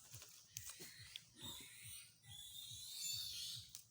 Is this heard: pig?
yes